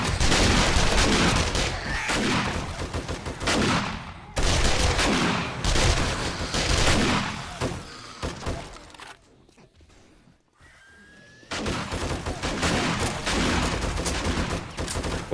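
Sustained bursts of rapid gunfire from a survival crafting game, loud and dense for about four seconds at a time, with a short quiet gap before the shooting resumes.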